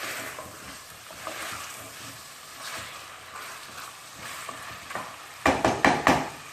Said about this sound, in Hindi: चिकन को मैंने इतना पकाया है कि इसका कलर चेंज हो गया